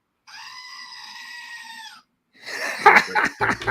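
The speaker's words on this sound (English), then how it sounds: "Screaming goats." A goat lets out a long, loud, strained scream lasting well over a second, followed after a short gap by a burst of noisier, rougher scream-like cries.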